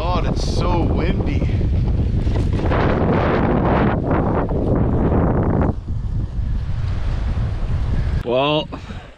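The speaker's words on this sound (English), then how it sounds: "oh my God, it's so windy." Strong wind buffets the microphone in loud, continuous roaring gusts by a channel around a large island in the northern wilderness, with a person talking over it partway through.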